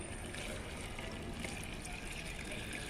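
Water pours steadily into a jar for making organic liquid fertilizer with jaggery, a soft continuous trickle heard close up at low volume.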